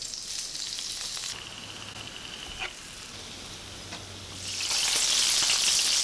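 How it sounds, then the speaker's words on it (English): Norwegian mackerel frying in hot olive oil in a pan, a steady hissing sizzle that grows louder near the end, heard alone without talk. "now that my olive oil is sizzling"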